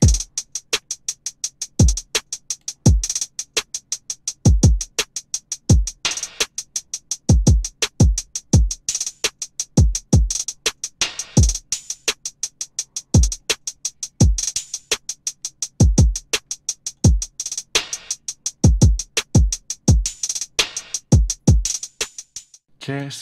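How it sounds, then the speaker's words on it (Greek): Basic programmed drum beat of kick, snare and hi-hats, with steady dense hats ticking over punchy, regularly spaced kicks and snares, loud and unaccompanied by talk. "Οπότε φτιάξα έναν βασικό ρυθμό με τα drums"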